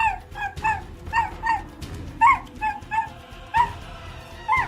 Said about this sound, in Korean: 급기야 주인에게 화를 내듯이 짖는 강아지